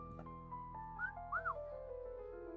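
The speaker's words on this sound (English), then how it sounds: "Who whistled?" Someone whistles faintly in a hospital ward, a few short rising and falling notes heard alone over steady low background hum.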